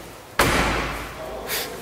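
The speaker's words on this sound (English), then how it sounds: "Doors open and close." A car door slams shut once, a sharp, loud thud with a ringing tail, followed by a fainter metallic click; the vehicle is a one-owner, pre-1986 Dutch youngtimer car with hood scoops, heard during a lot walkaround.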